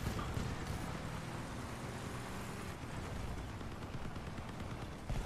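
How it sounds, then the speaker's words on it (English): Dense, continuous gunfire and cannon blasts from the vehicle combat game CrossOut, a steady rattling barrage mixed with engine rumble at moderate level, no talking. "I lost my machine gun, but I got 9 shots left with my cannon."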